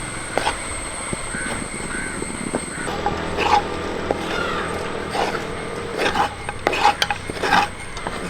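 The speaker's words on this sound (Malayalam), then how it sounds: "നമുക്കിത് തുറന്ന് ഇളക്കി കൊടുക്കാം" Kerala-style soft rava upma being stirred in a pan, with scraping spoon clinks and light metal knocks against the pan, set against steady kitchen background noise.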